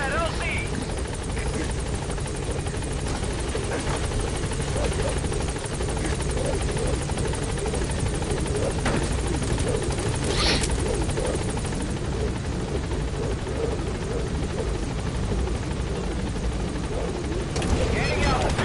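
Pequod, a transport helicopter in Metal Gear Solid V, hovers loudly at a landing zone, its steady rotor drone and whine filling the whole stretch with voices and radio chatter over it.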